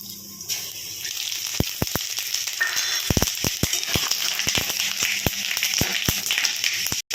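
Whole garam masala, bay leaf, panch phoron and cumin dropped into hot oil give a steady close hiss, dotted with sharp crackling pops that come irregularly throughout.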